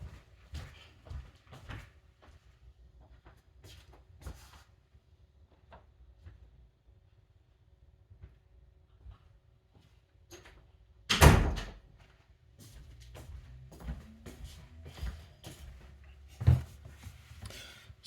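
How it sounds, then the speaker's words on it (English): A room door is shut with one solid, loud thud, standing out against soft room noise, scattered small handling sounds and light movement before and after. "Let me just go close the door to this room."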